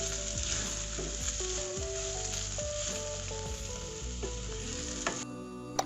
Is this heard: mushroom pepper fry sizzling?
yes